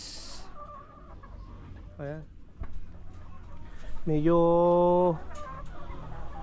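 Chickens cluck and squawk nearby in short bursts, with one longer drawn-out call from a weakened chicken, while a person speaks briefly.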